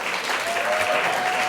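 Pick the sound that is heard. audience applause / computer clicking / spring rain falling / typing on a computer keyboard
audience applause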